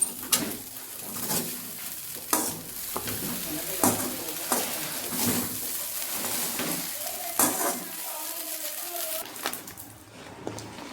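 A spoon stirs Maharashtrian-style poha with lemon juice in a pan, the scraping strokes repeating in an uneven rhythm over a soft sizzle, close and moderately loud with no talking.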